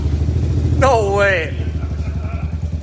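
A long-neglected three-wheeler fitted with a cheap aftermarket Amazon exhaust runs at a steady, near throb throughout, with a man's brief exclamation over it.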